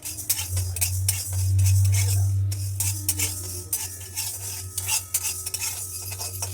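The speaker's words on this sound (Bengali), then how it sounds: "এগুলো প্রায় ভাজা হয়ে গেছে চটপট চটপট আওয়াজ হচ্ছে" Home ingredients for a hair-darkening remedy roasting in an iron wok, with soft crackling under repeated metallic scraping and clinks of a spoon against the pan, close and busy throughout.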